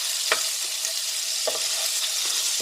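Food frying in a pan turned up to higher heat, with herbs mixed in: a steady bright sizzle throughout, broken by a few soft stirring scrapes.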